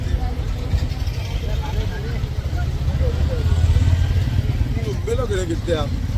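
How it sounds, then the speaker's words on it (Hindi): A motor vehicle ridden by a child with an injured hand, its engine running as a steady low drone throughout while people talk over it. "तो भी मेरा बच्चा चला रहा है गाड़ी"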